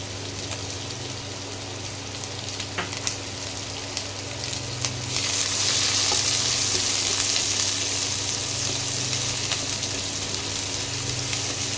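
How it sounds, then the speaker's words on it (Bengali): Chopped onion fries in hot oil in a pan with a continuous crackling sizzle that swells louder about halfway through and then holds steady and close. No voices. "পেঁয়াজটা একটু ভাজা ভাজা করি"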